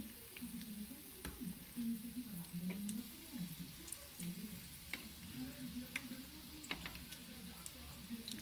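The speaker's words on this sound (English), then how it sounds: "So we fry just a little bit more." Butternut squash arancini frying in oil: a steady, quiet sizzle with small crackles and occasional ticks from turning them, with soft talk in the background.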